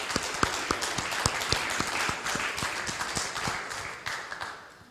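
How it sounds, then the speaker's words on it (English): An audience at a US Air Force presentation event gives a round of applause to a team: a dense wash of clapping with a few sharp, distinct close claps, fading gradually toward the end. "Please join us in congratulating this team with a round of applause."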